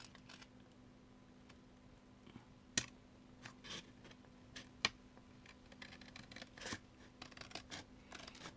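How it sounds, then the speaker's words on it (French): Scissors snipping through a kraft paper gift bag, scattered quiet cuts and rustles with a few sharper snips, close up against a faint steady hum. "je découpe tout ce que je n'ai pas besoin"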